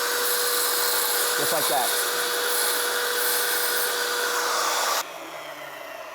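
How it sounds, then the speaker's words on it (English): Tile saw cutting backsplash tile, a steady loud whirring whine with a gritty cutting tone that stops abruptly near the end, leaving a quieter hum, while someone speaks briefly over it. "So I'm gonna turn the saw on, and I'm gonna show you what that looks like right now."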